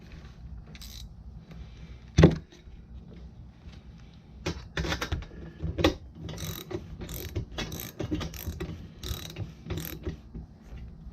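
A ratchet tightens a bolt in a rapid series of close clicking bursts with short pauses between strokes, after an earlier sharp metallic clank.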